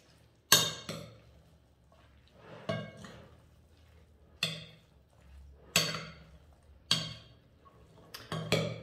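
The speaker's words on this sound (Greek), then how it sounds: "Ανακατεύουμε." A bean salad dressed with vinaigrette is being stirred, giving a series of sharp utensil clinks and scrapes against a bowl, spaced every second or so, close and fairly quiet, with no talking.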